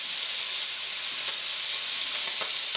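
Pancetta sizzles and fries steadily in a hot pan, a dense, even crackling hiss with a few sharper pops, close and continuous with no talking.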